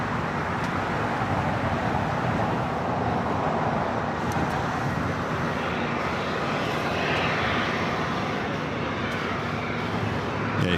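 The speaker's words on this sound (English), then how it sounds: "The A330 Neo now pushing it back from the north side gates of Tom Bradley." Airbus A330neo jet pushing back from the north side gates of Tom Bradley terminal at LAX, a steady broadband engine roar mixed with airport traffic noise, continuous and moderately loud throughout.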